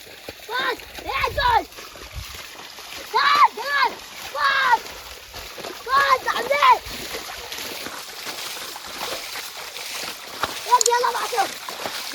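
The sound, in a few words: water splashing while bailing out a stream pool to catch fish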